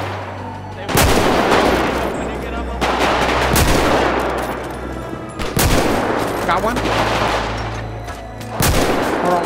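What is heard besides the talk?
gunfire in video game GTA 5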